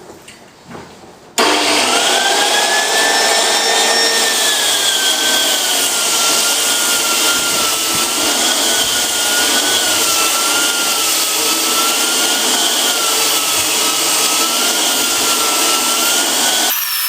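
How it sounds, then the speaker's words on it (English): A floor sander fitted with a 60 grit disc grinds along the edges of a wooden floor, starting after a brief quiet moment and then holding a loud, steady whine with a wavering pitch until the end. "I've fitted a 60 grit disc to the bottom"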